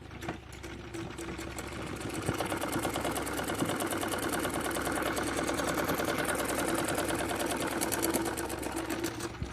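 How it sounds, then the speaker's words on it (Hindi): A sewing machine stitching round a salwar belt, running steadily in a fast, even mechanical whirr and clatter, close and continuous throughout with no talking. "अब इसमें पूरे में इसी तरीके से राउंडली सिलाई लगा के इसे कंप्लीट कर लेंगे।"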